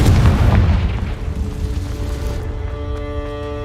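Confringo blasting spell from Hogwarts Legacy bursting in a single loud, deep boom that rumbles and slowly fades while game music tones ring out beneath it.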